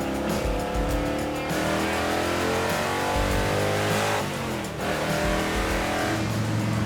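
A Dodge Mirada's engine revs hard and loud and close, with a steady rising and falling roar, brief exhaust crackle and a tire chirp, and no talk over it.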